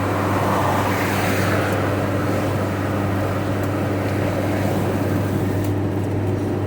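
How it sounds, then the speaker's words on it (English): Truck rumbling past at a car boot sale, a steady loud roar of engine and road noise lasting throughout, with no voices. "I can see a truck."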